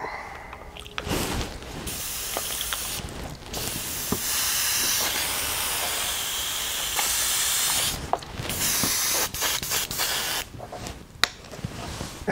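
An airbrush sprays a little orange paint at lowered pressure onto a firetiger vein pattern, a steady close hiss running for long stretches and broken by short pauses and clicks.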